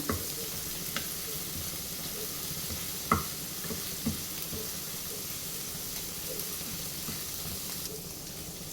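Egg being broken into pieces as it fries in a pan for chicken fried rice, a steady close sizzle with a few soft knocks of a utensil against the pan.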